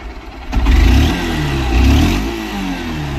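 A Honda SP160 motorcycle engine runs close by, rising into two throaty revs with a steady idle rumble between and after them, with no talk over it.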